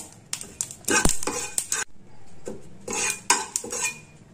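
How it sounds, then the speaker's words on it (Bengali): Spices are dry-fried in a pan over a low gas flame without oil for a fish curry. A spoon stirs and scrapes against the pan in short clattering bursts, close and fairly loud, with pauses between strokes. "এবার এটা একটু ভালো করে ভেজে নেব, যেমন ফোড়ন ভাজে ঠিক তেমন করে।"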